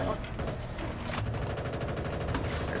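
Rapid machine-gun bursts from a tank gunner in Battlefield Bad Company 2 during a Rush defence at Arica Harbor, crackling steadily across the whole stretch among other battle noise, with no speech.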